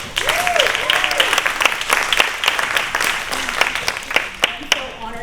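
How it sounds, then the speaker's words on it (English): Audience applauding for a panel at a keynote event, steady clapping from a crowd filling the room while a voice speaks over it. "let's give a round of applause for our panel"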